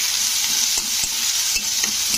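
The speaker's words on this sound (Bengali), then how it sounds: "তো পেঁয়াজকে এবারে আমি একটু লাল করে ভেজে নেব।" Chopped onion fries in a pan with a loud, steady sizzle close up, broken by a few scraping stirs of a spoon, with no voices.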